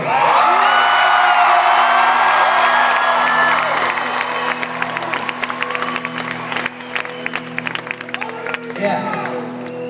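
A concert crowd cheering and screaming, loud whoops and shrieks swelling at first, then settling into scattered applause and yells while someone speaks over it.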